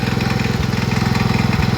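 Loud, close engine chugging from a long-idle John Deere 112H lawn tractor, a fast regular putter with a couple of slight stumbles in the rhythm.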